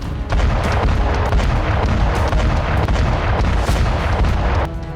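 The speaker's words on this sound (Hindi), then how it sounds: "रूस के सुखोई 34 ने आसमान से मिसाइलें गिराई।" Explosions from missiles dropped by a Russian Su-34 airstrike on Ukrainian frontline positions form a loud, dense, continuous barrage of booming rumble with no gaps and no voices.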